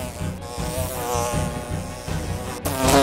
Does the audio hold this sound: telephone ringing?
no